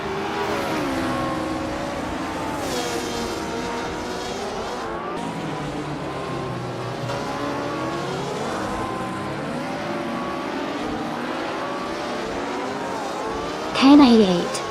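Race cars in a racing video game pass and overtake one another, engines whining and shifting pitch across the pack, with a brief louder burst near the end and a voice talking over the engines.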